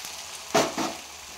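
Omelette frying in an oiled pan, a steady sizzle with two short bursts of louder spitting as the egg mixture meets the hot oil, close and with no voices.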